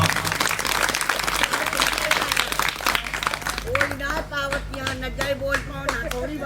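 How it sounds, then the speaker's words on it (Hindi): Loud, dense clapping from an audience at a Hindi spiritual discourse fills the first half, then thins out as a voice speaks or chants over scattered claps. "ताली जब बजाएं तो जोर से बजाएं"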